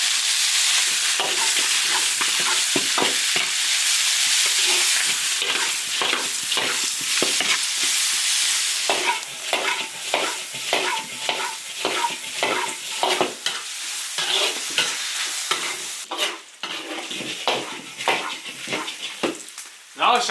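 Beef ears are stir-fried in a wok with ginger, garlic, chili sauce, Sichuan pepper and dried chilies: a loud, close hissing sizzle cut by rapid rhythmic scraping strokes of the spatula throughout.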